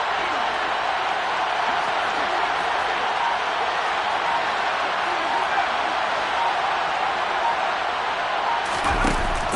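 Stadium crowd roar from a Madden football video game, a dense, steady wall of cheering noise held for the whole stretch ahead of a big third down, with a brief sharp burst near the end.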